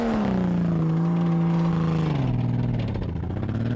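A Jeep Cherokee XJ's straight-six engine labours loudly and steadily while driving in sand dunes, its droning pitch sagging as it bogs down under load, with no talking.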